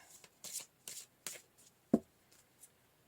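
Oracle cards shuffled and drawn by hand in a quiet room, a few soft papery riffles and flicks followed by a single sharper slap as a card is set down.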